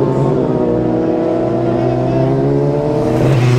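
Norton and Kawasaki superbikes at the Classic TT road race roar past in a loud, sustained engine drone with shifting pitch, close by, over a low background rumble.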